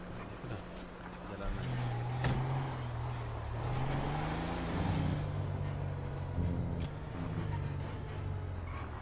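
Engine of a Cadillac car in the video game GTA V, a low revving hum that rises and falls steadily as the car drives, with people talking over it throughout.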